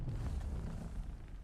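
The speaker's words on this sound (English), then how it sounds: "An explosion just happened." A distant explosion in the video game Dune Awakening, a deep rumbling boom rolling on as low, sustained noise with no sharp onset.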